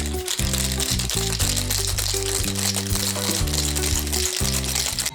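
A cocktail shaker packed with ice, shaken hard for a honey cocktail, makes a loud, continuous rattle of ice against metal throughout, under steady background music.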